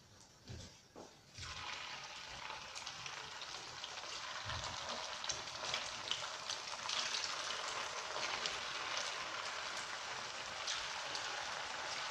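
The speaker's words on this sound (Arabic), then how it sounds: "راح ندير الدفعه الثانيه في المقله" A second batch of banana zalabia frying in a pan of oil, a dense steady sizzle that starts after a few brief knocks and then holds a continuous crackling hiss, close and even, with no voices.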